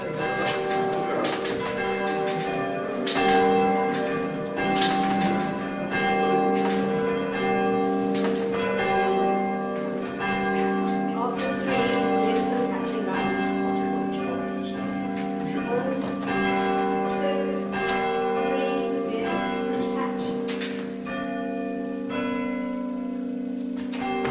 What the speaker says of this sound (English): Bringing down the tenor here can be a challenge, as the clapper easily stops striking the bell, so Steve steps in with some brute force to